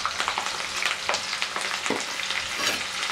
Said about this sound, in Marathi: आता आपण मिरच्या तळून घेऊयात